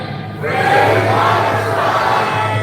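A large protest crowd for Palestine in Dublin shouts in unison, a loud, dense massed roar of voices that swells suddenly and holds steady for a couple of seconds.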